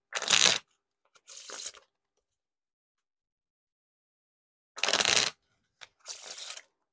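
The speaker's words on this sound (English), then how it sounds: "The more I do the riffle shuffles and bridge shuffles" Four short bursts of papery riffling as Bicycle playing cards are riffle shuffled, two close together, then a long pause before two more, crisp and close with no voices.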